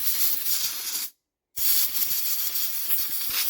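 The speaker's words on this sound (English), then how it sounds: "Now you want to blow with this on. Blow any WD out because you want this quite clean." Compressed air blasting WD-40 out of a lawn bug bearing housing, a loud close hiss that cuts out briefly for a moment, then resumes steadily.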